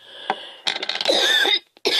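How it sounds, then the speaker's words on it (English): A few rough coughs and throat-clearing noises, close and fairly loud, in short bursts with a brief pause near the end. "I'm sorry about the coughing"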